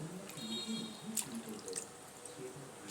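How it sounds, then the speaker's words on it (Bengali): Malabar spinach leaves being washed by hand in water, with soft drips, splashes and trickling sounds, fairly quiet and close, with no talking. "শাকগুলো অর্ধেকটা ধোয়া হলো"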